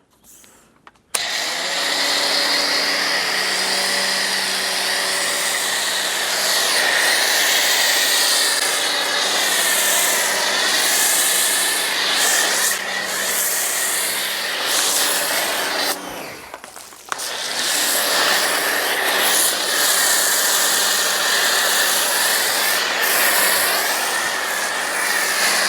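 A pressure washer foams down a car, a loud steady high-pitched whine with hissing spray that runs almost without pause, cutting out briefly about two thirds of the way through.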